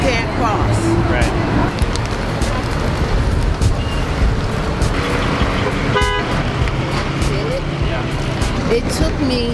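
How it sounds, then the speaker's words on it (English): Busy New York City street traffic with cars and buses rumbling steadily close by, a horn toot partway through and a brief rattling burst near the middle, constant and loud throughout. "Can you hear the traffic on your right side?"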